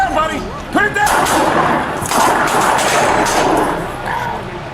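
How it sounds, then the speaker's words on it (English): Gunfire between a police officer and an armed man, a dense burst of sharp cracks and thuds lasting several seconds, loud and close, after a raised voice. "Cochran responds by drawing his weapon, and the two exchange gunfire"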